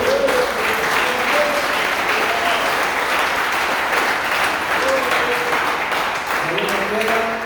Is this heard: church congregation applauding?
yes